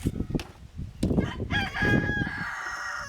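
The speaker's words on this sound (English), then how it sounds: "I apologize for the roosters." A rooster crows loudly with a drawn-out, wavering call over a low murmur of background noise and scattered clucking.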